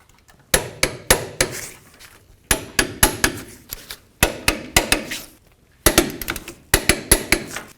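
Metal clanks and ratchet clicks from a wrench tightening sway bar link bolts on a 1999-2007 Ford F250 front end, sharp close strikes in four quick bursts of several hits each, separated by short pauses.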